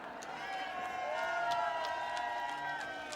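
A crowd gathers to greet a bus carrying nuns, with many voices talking and calling out together in a continuous, moderately distant murmur and scattered cheering, and no single speaker standing out.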